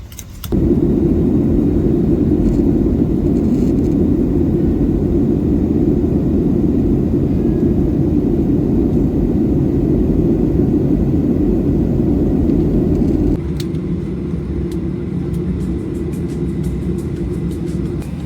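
A passenger airplane landing at Launceston, Australia, heard from inside the cabin as a loud, steady engine roar and rumble that drops to a lower hum near the end.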